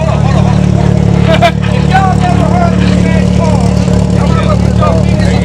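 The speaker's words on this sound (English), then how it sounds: "If y'all never heard this man's car, ever, you might want to put your fingers in your ear" A loud Mazda RX7 FD engine idles and rumbles steadily up close, its low drone constant throughout while several people talk over it.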